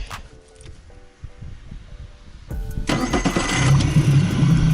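A tiller-steered outboard motor on an Alumagic 400 boat starts after a few faint clicks, catching partway through and then running loud and steady to the end.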